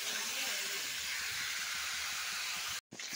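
Chicken meat frying in oil over a high flame, a loud steady sizzling hiss that fills the clip with no talking and cuts out briefly near the end.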